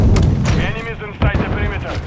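Video game gunfire and heavy explosive booms during a hardpoint defense battle. Loud, close shots and thuds come in bursts over clashing effects, and a voice line plays among them.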